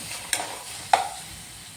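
Chopped tomato being sautéed with shallots and green chillies, a soft steady sizzle broken by two distinct spatula knocks against the pan, close and fairly quiet with no talking.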